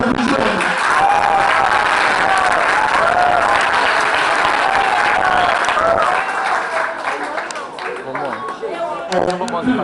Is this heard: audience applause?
yes